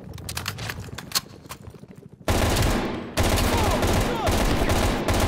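Gunfire in the campaign of the video game Call of Duty Black Ops Cold War: loud, dense bursts of rapid shots, then sustained heavy firing that fills the rest of the clip, with no voices over it.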